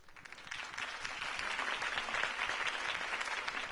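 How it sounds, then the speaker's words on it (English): Crowd applause in the Batman: The Telltale Series video game, a brief burst of many hands clapping that swells and holds steady at moderate loudness. "my campaign's largest backer, could have heard that applause"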